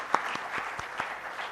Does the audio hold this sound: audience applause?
yes